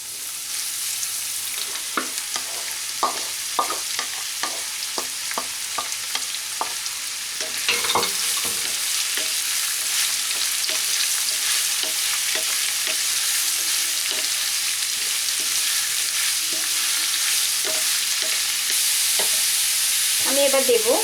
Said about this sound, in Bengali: এবার আমি চিচিঙ্গাগুলো দিয়ে দেব।